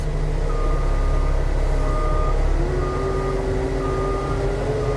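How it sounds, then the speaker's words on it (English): A CAT utility broom backing up, its steady loud engine drone under a repeating series of high electronic reversing beeps, close by. "Now, I'm going to go ahead and back up"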